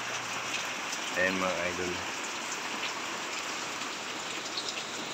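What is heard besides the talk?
rain falling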